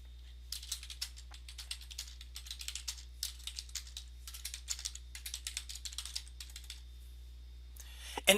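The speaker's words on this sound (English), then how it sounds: "every time I put in a keystroke, a character, it automatically saves it" Rapid, irregular keystrokes on a computer keyboard while editing a document in Word Online, a steady close clatter of taps in bursts with brief pauses, ending in a louder click.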